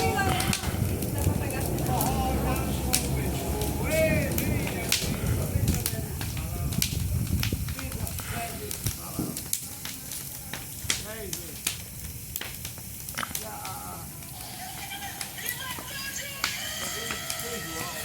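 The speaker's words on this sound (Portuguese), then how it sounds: "A fogueira está queimando." A large São João bonfire burns with scattered sharp crackles and pops over a steady roaring rumble, heard up close and continuously, with voices talking nearby at times.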